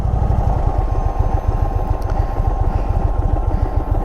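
An Indian Chief Vintage motorcycle engine from 2026 rumbles at a steady idle, a loud, close, continuous low-pitched throb with a fast pulsing beat that holds evenly throughout, and no talk over it.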